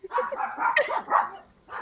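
A dog gives a quick, close flurry of barks and yips lasting under two seconds, then falls briefly quiet before one more yelp starts.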